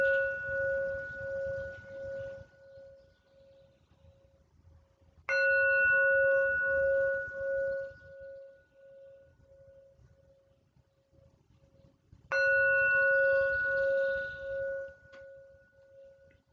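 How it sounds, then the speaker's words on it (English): Three meditation chimes struck one after another at long intervals, each a bright clear ring that hangs and slowly fades, heard alone in a quiet room. "listen to the sound of the chime, 3 chimes that give us an opportunity to follow the sound"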